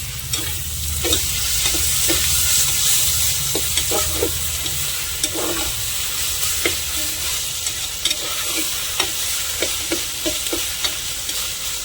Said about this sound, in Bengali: এবার আমি চিকেনটা ঢেলে দিচ্ছি